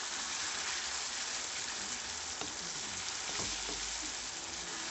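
Chicken pieces fry with a steady, loud sizzle in a pan during Nepali home cooking, with occasional stirring scrapes and clinks rising above the hiss.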